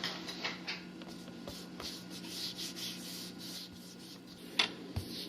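Hands rub and smooth black fondant over a school-books graduation cake, a soft continuous brushing and rubbing with a few light taps, close and fairly quiet.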